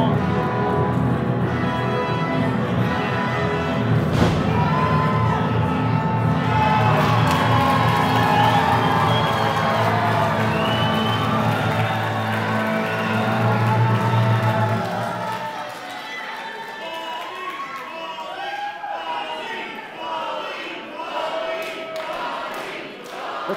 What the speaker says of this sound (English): The crowd chanting for Baldy from Baldy and the Vegan on the TPC network